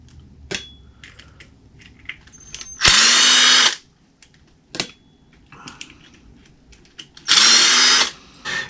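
A power drill backs out three button head screws from an XMaxx RC truck, two loud whirring bursts of a few seconds each, separated by quieter clicks and handling of parts.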